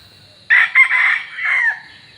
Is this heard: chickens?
yes